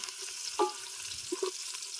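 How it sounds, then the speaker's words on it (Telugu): Thinly sliced onions sizzling in oil in a pan while cooking a country chicken curry, a soft close hiss with a few brief utensil clinks. "ఇప్పుడైతే నూనె వేసుకుందాం ఫ్రెండ్. ఓకే, సన్నగా తరుగుకున్న ఉల్లిపాయలు."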